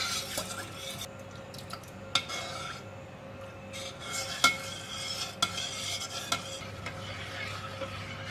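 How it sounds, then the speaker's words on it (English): Steady scraping and stirring of a coconut jelly mixture in a pot on the heat, with occasional light clinks of a utensil against the side and a soft sizzling bed underneath. "Just keep stirring it"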